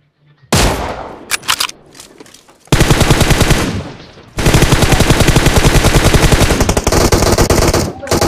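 Rapid automatic gunfire rings out in the mobile shooter Battlegrounds Mobile India, loud and close, with several short bursts followed by two long sustained strings of shots.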